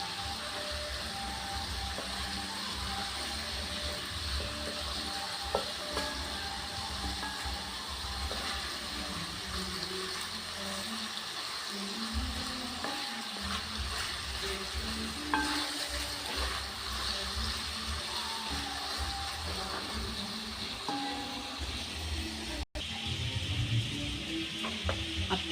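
Chicken pieces tempering in hot oil for a Sri Lankan chicken devilled dish, with a steady continuous sizzle and bubbling close by throughout, occasional stirring clinks on top, and no talking.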